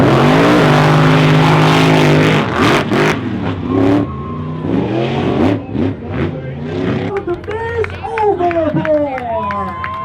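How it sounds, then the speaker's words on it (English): Drag racing vehicles rev and accelerate in the finals at a monster truck event, loud rising and falling engine sweeps with crowd noise and voices talking over them. "right now they're doing the finals on the drag race thing"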